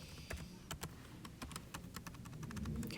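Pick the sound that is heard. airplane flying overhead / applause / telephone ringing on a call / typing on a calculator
typing on a calculator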